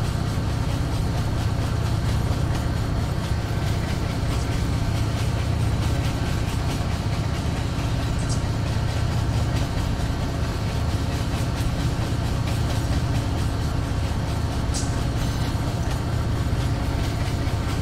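A Southern Pacific train in Run 8 Train Simulator labors up a slight grade, producing a steady, continuous engine drone and rolling rumble with faint intermittent squeaks, alone with no talk.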